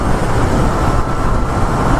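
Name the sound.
vehicle driving over a rough, badly kept road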